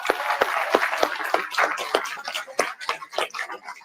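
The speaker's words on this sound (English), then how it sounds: "Give them a round of applause." Sparse clapping at an award event, a small group producing distinct, irregular sharp claps that thin out toward the end, close and moderately loud with no talk.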